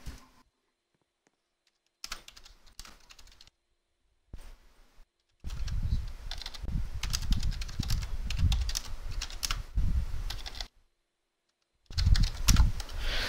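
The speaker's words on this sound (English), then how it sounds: "If you guys heard me typing, I'm sorry." Someone types on a computer keyboard in bursts of rapid clicking, some short and sparse, others long and dense, with silent gaps between them and no talk.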